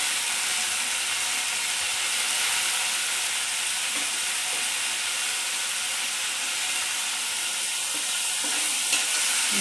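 Chana dal stirred and frying in a pan with curry leaves, a steady loud sizzle with scraping, clicking stir strokes throughout, no talk.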